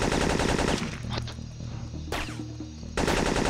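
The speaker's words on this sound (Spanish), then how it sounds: "Hace mucho daño los disparos de francotirador" Gunfire from the PlayStation game Syphon Filter 3, heard as dense bursts of shots at the start and end with a quieter stretch between that carries a couple of sharp single reports, loud and close.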